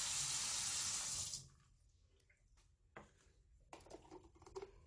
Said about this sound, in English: Of course, I need to put some water in there. So I'm putting some water in there.